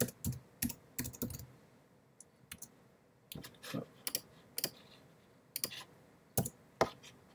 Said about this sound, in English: on the next line, I would just type an asterisk, and then add some